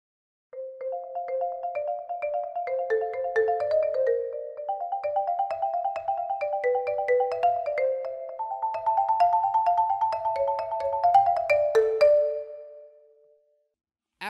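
Marimba playing a busy melody with all the notes filled in, quick rolling mallet strikes layered over sustained tones in a continuous flowing line that rings out and fades at the close, clear with no talking.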